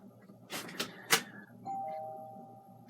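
A doorbell sounds during an oil painting lesson: a few quick bright chimes, then a single sustained tone that rings on and slowly fades, fairly close in a quiet room.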